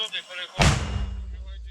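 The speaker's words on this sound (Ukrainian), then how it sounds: "От ми зараз туди дуже постріляємо" A single heavy gunshot booms out suddenly after quiet murmuring, fired at an enemy position on the front line in Donbas, with a long low rumbling echo trailing away.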